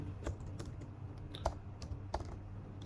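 Keys on a computer keyboard tap in a sparse, uneven sequence of light clicks, close and quiet over a faint steady hum, with no voice.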